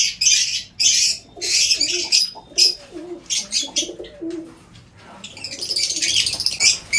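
Pigeons in a backyard loft coo and squabble at close range, bursts of sharp, flapping, agitated calls alternating with low cooing, loud and busy with no talking.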